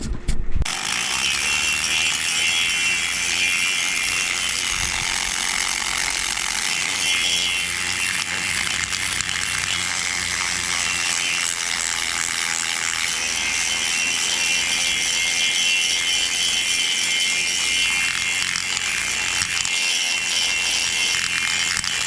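Rotary tool grinding and enlarging the port of a Farmertec kit cylinder for a Stihl MS880 two-stroke chainsaw, a continuous high-pitched whirring rasp that holds steady and loud throughout, close up with no talk.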